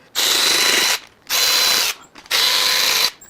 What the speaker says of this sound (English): This is the one that's going to require a wrench here.